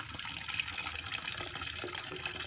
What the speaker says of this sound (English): You open that up so you get an increased water flow